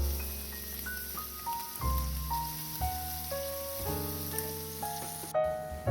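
Scallops searing in a hot pan for a golden-brown crust, a steady close sizzle and crackle running throughout under background music with sustained tones, no talking.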